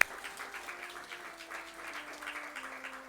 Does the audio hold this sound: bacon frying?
no